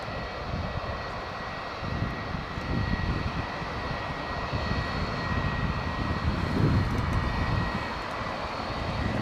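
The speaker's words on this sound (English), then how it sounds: "Oh, listen to it. Listen to the engines." Jet engines of a Boeing 757 rumble steadily as the airliner passes in heavy rain, a loud broadband roar that swells slightly and holds throughout.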